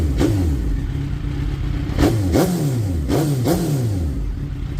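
A warmed-up Type S car engine revs close by, steady idle broken by several quick blips that rise and fall, with one early rev and three more later.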